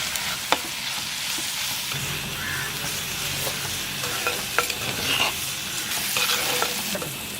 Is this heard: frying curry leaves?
yes